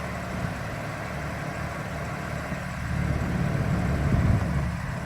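A new BMW M3 or M4 sits idling with a steady, low exhaust rumble that holds even throughout, swelling slightly louder partway through, with no voices present.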